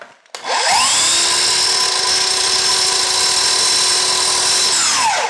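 A power saw spins up sharply and holds a steady, loud, high whine for about five seconds while cutting ceiling crown molding, then winds down at the end.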